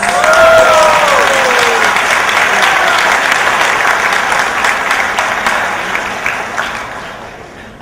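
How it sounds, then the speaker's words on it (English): Banquet audience at a district governor's dinner breaks into loud, dense applause that starts strong with a few cheers and gradually thins and fades over several seconds. "Please give us President Joseph Chua a big round of applause."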